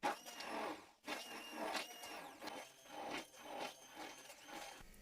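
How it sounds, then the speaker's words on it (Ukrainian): A blender whirs steadily with a dense, rough motor noise, its pitch shifting as it churns a thick spinach pancake batter of milk, oil and puréed spinach, fairly quiet overall. "І все збиваємо блендером."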